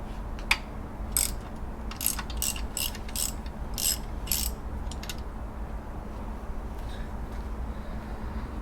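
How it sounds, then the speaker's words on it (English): A ratchet wrench clicks in quick bursts while loosening a large bolt under the hood of a Subaru Impreza during alternator replacement, a close series of sharp ratcheting runs over a steady low hum, then quiet. "next we're going to loosen the big bolt, which is right there"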